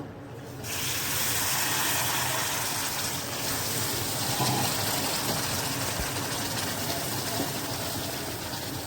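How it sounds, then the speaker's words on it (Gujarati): Water is poured into roasted flour in a pan on the stove for a fasting-day thali, giving a loud, steady rushing and bubbling gush that starts abruptly and continues for about eight seconds. "જો હવે આપણે પાણી એડ કરી નાખીએ"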